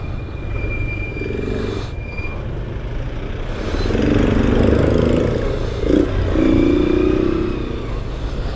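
Busy road traffic on a Philippine shortcut route near a highway during a fiesta, with trucks and other vehicles rumbling and passing close by in a steady, swelling drone.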